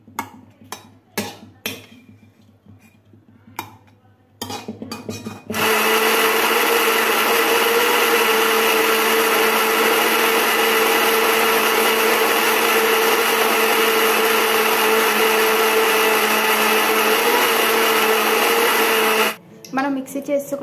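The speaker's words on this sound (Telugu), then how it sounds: "మిక్సీ చేసుకుందాం దీన్ని." A kitchen mixer grinder blends cucumber chutney in a long, steady, loud whir of about fourteen seconds, stopping abruptly near the end, with brief clatter and some talk before the motor starts.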